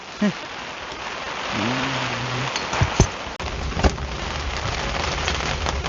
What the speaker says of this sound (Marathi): जोरात पाऊस आला